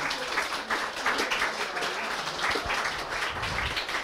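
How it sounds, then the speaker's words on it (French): An audience at an evening talk on French archaeology applauds, a dense, continuous wash of clapping from a hall full of people, with some low rumbling noise underneath. "Vous pouvez applaudir"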